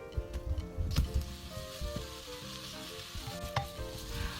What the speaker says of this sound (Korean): 마늘이 익으면서 향이 싹 올라오면은 고기 먼저 넣고 볶아줍니다